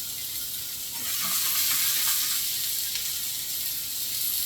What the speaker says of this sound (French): je vais commencer à poêler mes champignons